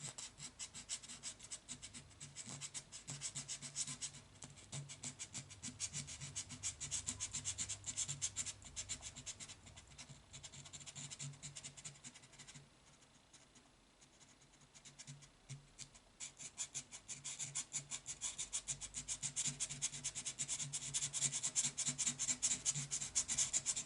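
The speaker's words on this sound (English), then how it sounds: "you want to kind of sand off the whole fretboard area that you're going to stain." Sandpaper is worked across a guitar fretboard to prepare it for black stain, giving a steady run of close, fast scratchy rubbing strokes that pause briefly midway before resuming.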